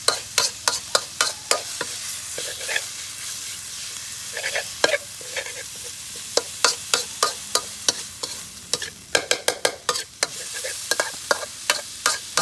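Hand-chopped pork stir-fried in a pan for northern Thai nam prik ong, with repeated sharp scraping and tossing strokes of a spatula over a continuous sizzle, no talking.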